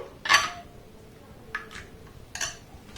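A utensil stirs rice flour batter for chitoi pitha in a bowl, giving three light clinks against the bowl over a quiet background.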